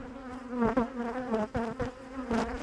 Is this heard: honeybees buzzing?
yes